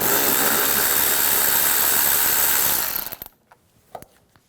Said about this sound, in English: And take the top bolt out here, same 8mm socket.